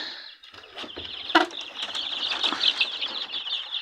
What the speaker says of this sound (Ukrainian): Тут у мене курчата